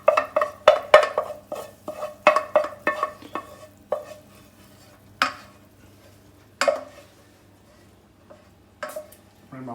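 A spoon scrapes and taps brigadeiro mixture out of a pan in a quick series of clinks and scrapes, then slower, spaced knocks as the scooping winds down, close and clear.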